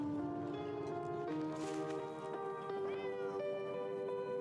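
A cat in a video game meows in a drawn-out, whiny run of calls, fairly close and clear, with soft rustling and light steps beneath.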